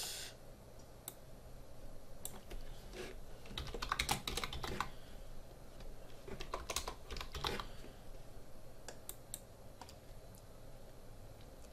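Close computer keyboard typing enters a song name, with irregular clusters of light clicking keystrokes over a faint steady background hum and no speech.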